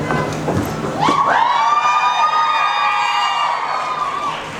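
A convention crowd at The Originals panel cheers and shouts together, loud and sustained, with a high whistle-like tone rising and holding over the noise for several seconds.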